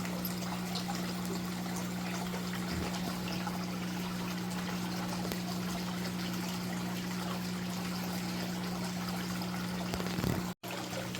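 Continuous water trickling and splashing from waterfall boxes in a 300-gallon indoor living-room pond, with a steady low hum from a 4,000-gallon-per-hour pump underneath, unchanging throughout.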